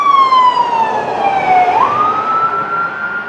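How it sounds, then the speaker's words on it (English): A county ambulance siren wails loud and close as it passes a block from the hospital, its single tone sweeping down, dipping, then rising again as the vehicle goes by, alone without talk. "the hospital 1 block away is going to send the one ambulance in the county right past me"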